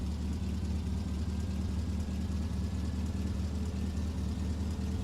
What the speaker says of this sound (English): Start the truck. Listen to it.